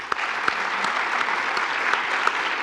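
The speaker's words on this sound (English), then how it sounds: "Please, a round of applause for them." An audience at a morning community forum on education claps steadily, a dense wash of applause with a few sharper individual claps standing out, continuing without pause.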